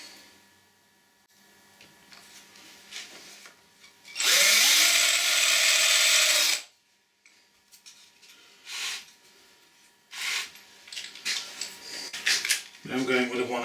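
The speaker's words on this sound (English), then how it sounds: "We'll start with the centre drill." Centre drill cutting on a small lathe during a workshop modification, a loud steady whir lasting a couple of seconds amid quieter clicks and handling noises.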